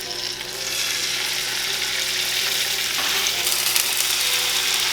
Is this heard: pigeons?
no